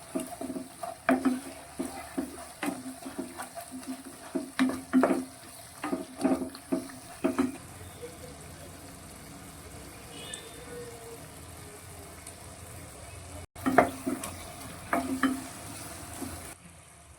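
Prawns seasoned with pepper are tossed in ghee in a pan for a Mangalorean ghee roast, with quick bursts of spoon-scraping strokes over a soft sizzle, a quieter stretch, then more stirring, near and with no talk.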